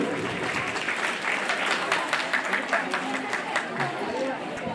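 A crowd claps steadily for several seconds, dense and even applause filling the room from start to finish.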